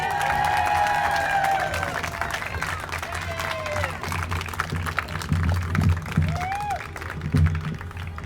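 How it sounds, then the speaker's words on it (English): Crowd applause at an outdoor political rally at a state capitol for Wes McKinley, clapping and scattered cheers over a low background hum and whistling tones, with murmured voices mixed in. "please give a big round of applause to Wes McKinley"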